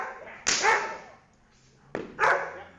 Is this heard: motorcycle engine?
no